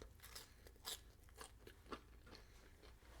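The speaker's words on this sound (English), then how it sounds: "the fries got a good crunch to it" Close, crisp crunching as someone bites and chews loaded fries topped with mozzarella, a few distinct crunches spaced over quiet chewing, soft and intimate with no talking.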